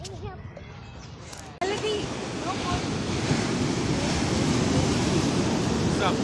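Surf rolling onto a beach in Goa, a steady broadband wash with wind buffeting the microphone, louder after a sudden jump partway through, with voices talking faintly early on.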